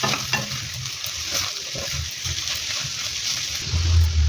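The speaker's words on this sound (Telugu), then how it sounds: "ఇప్పుడు ఈ వెల్లుల్లిపాయ కారం మొత్తం మిక్స్ అయ్యేలాగా కలిపేసుకున్నామండి." Broad beans frying with garlic chili powder while being stirred in a pan, a close, soft sizzle broken by scraping and stirring strokes, with a low thump near the end.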